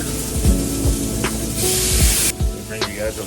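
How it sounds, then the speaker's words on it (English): Tomatoes hit hot oil in a frying pan, a loud close sizzle and spattering hiss with scraping and clinks of a utensil, a brief strong burst of spray in the middle. "Get a nice amount of tomato in the pan."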